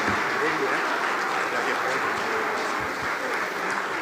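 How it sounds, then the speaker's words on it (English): A large audience at the NLNG grand award night applauds the Nigeria Prize for Science winners on their way to the stage, a dense, steady roar of clapping that blends with crowd murmur. "A round of applause for them as they make their way to the stage."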